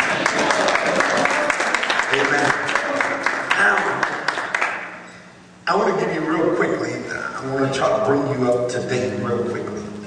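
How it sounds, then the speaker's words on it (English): A church congregation claps their hands together with dense, sustained clapping and voices, briefly dropping away before resuming loudly. "clap your hands and tell the Lord thank you"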